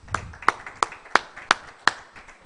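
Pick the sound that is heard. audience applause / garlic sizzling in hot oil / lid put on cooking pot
audience applause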